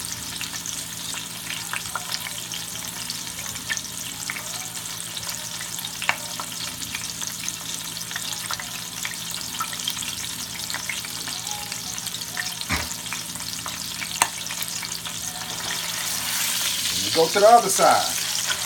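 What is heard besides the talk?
pot roast meat searing in pan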